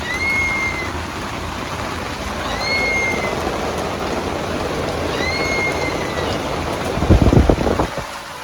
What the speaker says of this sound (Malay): Hujan mengejut, hujan lebat lama pula tu.